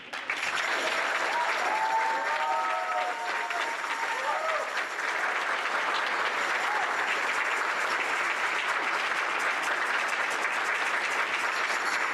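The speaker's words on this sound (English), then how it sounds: "Please give a great round of applause to Dr. Paula Martin, who has served as the i" Audience applause at a school ceremony honouring an interim director: a long, broad roar of clapping from a large crowd, steady and sustained, with a brief voice or whistle-like tone audible near the start.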